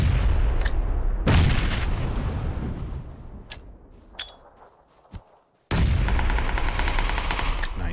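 AK rifle fire in the battle game PUBG: loud bursts of automatic shots rattle at the start, fade into scattered distant cracks and thumps, then a sudden renewed burst of rapid gunfire resumes near and heavy.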